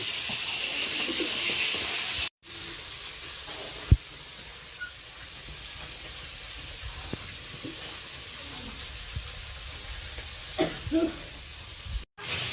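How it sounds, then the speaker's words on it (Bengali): Raj pakal fish frying in oil in a pan, a steady broadband sizzling hiss running throughout with occasional small pops and crackles, close and continuous, briefly cut out twice. "গোল্ডেন ব্রাউন করে মাছগুলো আমি বেশ ভালো করে ভেজে নিলাম"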